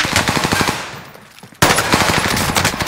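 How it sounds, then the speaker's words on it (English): Rapid automatic gunfire in a first-person shooter match, loud sustained bursts of rattling shots, a short lull, then another abrupt dense burst. "Taking shots."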